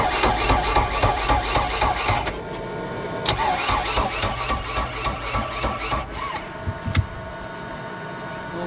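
A MerCruiser 3.0L Alpha One inboard/outboard boat engine starts roughly, cranking and catching into an uneven, sputtering idle with irregular surges, close and fairly loud.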